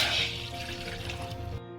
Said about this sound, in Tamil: இப்போ இன்னொரு பாத்திரத்தில் 1 கப் தண்ணி ஊற்றிக்கலாம்.